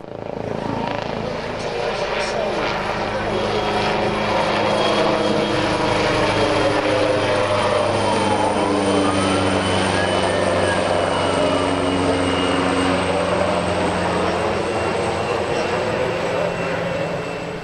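An AW139 helicopter's rotor and engine drone loudly and steadily as it passes at an airshow, with a rising and falling whine sweeping through the middle of the pass.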